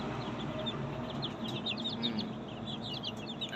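Tiger and desi chickens, the tiger birds about half a kilo each, cluck and give short high chirps in a steady, fairly quiet stream against a low background murmur.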